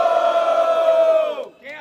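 A live rap battle audience at Batalha do Coliseu in São Paulo roars and shouts together in a sustained, loud crowd cheer that fades out near the end.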